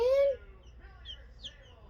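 Baby chicks peep briefly, with one loud, clear chirp up close followed by fainter scattered cheeps.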